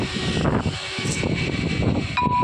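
A small rechargeable mini cooling AC fan runs close by with a steady whirring airflow hiss, plus a few faint clicks and a short tone near the end.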